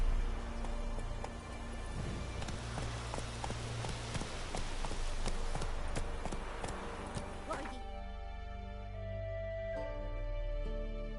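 Roach the horse galloping in the video game Witcher 3: Blood and Wine, steady rapid hoofbeats up close with rain-like patter, under a speaking voice, before the hooves stop and a sustained musical tone remains.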